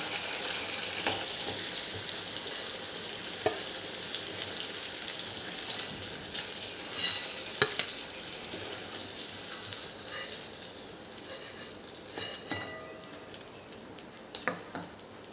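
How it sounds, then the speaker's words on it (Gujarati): Kathiyawadi gota fritters deep-fry in hot oil with a continuous close crackling sizzle. Occasional clicks and scrapes of a utensil break through the bubbling, and no one speaks. "હવે આને આપણે તળી લઈશું"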